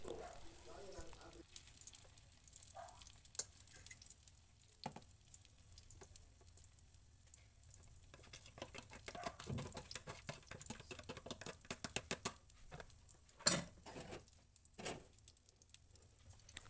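Eggplant frying in oil in a home kitchen, a soft steady sizzle with faint crackles and a few sharp pops, heard from close by but quietly, with occasional kitchen clatter.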